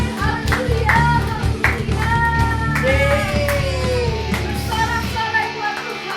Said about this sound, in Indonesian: Beri tepuk tangan buat lagi nama Tuhan.